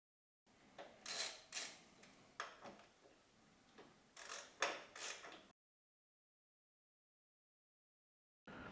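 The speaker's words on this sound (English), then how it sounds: "We're going to slacken off these 4 bolts." Bolts on a motorcycle's right-hand foot peg assembly are slackened off with a ratchet tool, a series of close clicking and creaking turns in two short bursts, followed by silence and a brief final click.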